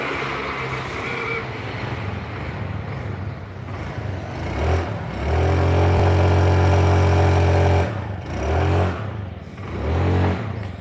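A carbureted Honda Beat scooter engine runs close by, idling with a steady low hum and then revving up in a few swells before settling back.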